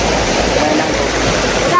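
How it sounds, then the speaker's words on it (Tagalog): Stream water rushing and splashing in a steady, close, continuous wash, with people talking over it. "Mahina ang tubig na."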